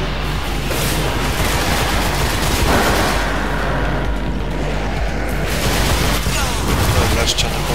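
Rapid gunfire from a weapon in the sci-fi shooter Destiny crackles steadily and loudly for several seconds, a dense run of shots with someone speaking French over it.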